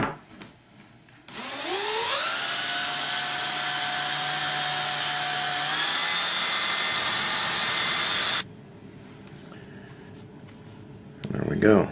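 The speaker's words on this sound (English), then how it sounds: "I'm going to chuck my slicking tool up into my drill" A power drill spins a leather slicking tool, starting with a rising whine and running at a steady loud high pitch for several seconds, then cuts off abruptly.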